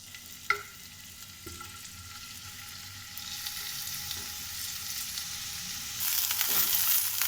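Marinated chicken fries in oil in a pan for a spring roll filling. It gives a continuous close sizzle with light stirring, growing louder and hissier toward the end after a sharp clink early on.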